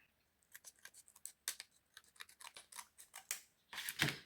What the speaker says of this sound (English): fold it to get the length I want and cut along that edge